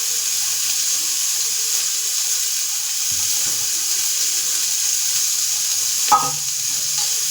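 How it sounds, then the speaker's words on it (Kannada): Boiled horse gram being stirred and fried in a tempering of oil and spices, a steady low sizzle with scraping spoon strokes and one sharper clink near the end, no talking. "ಸ್ವಲ್ಪ ಚೆನ್ನಾಗಿ ಫ್ರೈ ಮಾಡ್ಕೊಳ್ಳೋಣ."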